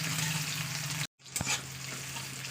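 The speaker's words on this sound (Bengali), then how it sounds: "পেঁয়াজটা দিয়ে না একটু ভাজা ভাজা করে নিতে হবে।" Onions frying in hot oil in a home kitchen pan, a steady close sizzle broken by a brief silent gap, then a stir and the sizzle carrying on.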